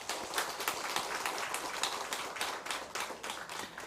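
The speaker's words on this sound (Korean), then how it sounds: "우리 하나님 앞에 영광의 박수 돌려드립시다" A church congregation applauding together at a Christmas service, a dense, steady patter of many hands clapping throughout, fairly loud and close, with no talking over it.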